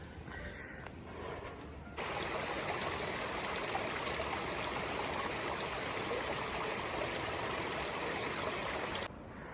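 Water from mountain waterfalls and streams on the Hampta Pass trail rushes in a steady, loud roar that swells abruptly and holds for several seconds before easing back.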